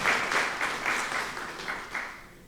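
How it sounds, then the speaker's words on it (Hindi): Audience clapping at a talk on media and caste, a brisk wash of many hands applauding together, swelling and easing in short waves and tapering off toward the end. "ताली बजाइए उनको लिए जो वो चला रहे हैं"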